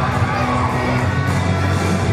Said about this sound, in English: the adulation shown to him by the crowd as he steps into the ring